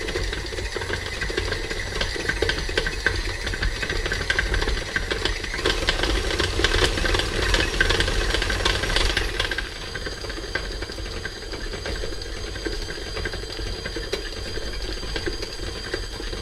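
An electric mixer runs steadily at low speed, creaming room-temperature butter for three-ingredient Scottish shortbread, a continuous close whirring drone with rattling beater clatter that drops slightly in intensity partway through.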